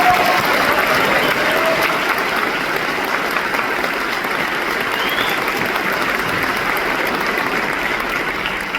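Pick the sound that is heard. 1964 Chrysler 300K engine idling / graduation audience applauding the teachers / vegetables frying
graduation audience applauding the teachers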